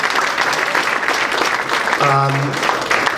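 An audience applauds the assistant coaches at a hall of fame induction for a women's soccer team, a dense stretch of clapping with a voice briefly speaking over it.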